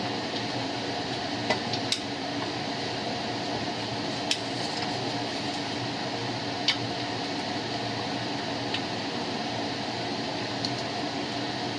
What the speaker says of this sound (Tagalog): Halu-haluin ko lang.